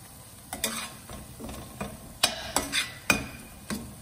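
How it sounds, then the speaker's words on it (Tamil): Prawn masala with chilli and coriander powder being sautéed and stirred in a pan, a quiet sizzle under repeated sharp scrapes and taps of the spoon at an uneven rhythm. "போட்டுட்டு இதை வந்து கொஞ்சம் நேரம் வதக்க போகிறேன்"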